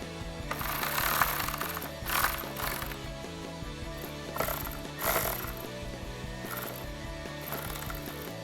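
A hand ratchet snugs down bolts on MP Concepts high-clearance fender flares on a Jeep Wrangler JL. It makes repeated bursts of rapid clicking strokes in a steady back-and-forth rhythm, close by, with no talking.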